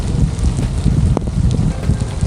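Steady rain and gusting wind during a storm on a hiking trail, a dense, continuous rush close to the microphone with wind buffeting throughout and no voices.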